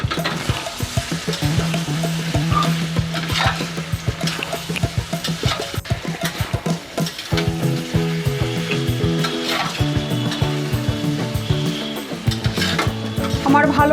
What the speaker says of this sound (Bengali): আমি একটু নাড়াচাড়া করব।